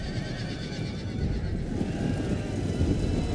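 Cavalry horses in a Total War: Rome II battle, with a neighing and whinnying quality over dense rumbling battle noise and hoof-like clatter, continuous and busy throughout.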